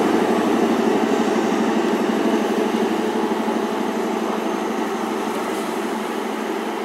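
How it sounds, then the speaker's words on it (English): An eight-coach class 43 high speed train, power car 43144, passes at Dawlish on the Torbay Express from Paignton to London Paddington. It makes a loud, steady, broadband roar of wheels and engine that eases very slightly toward the end, with no voices. "8 coach, class 43 high speed train."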